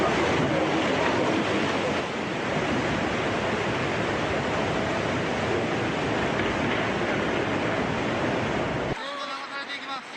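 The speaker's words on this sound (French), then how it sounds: "Dans un vacarme assourdissant, la vague géante déferle alors que certains automobilistes sont encore au volant de leur véhicule." Deafening roar of a giant tsunami wave crashing into the town of Miyako, Japan: a dense, continuous, loud rushing wash that holds steady, then drops off abruptly near the end.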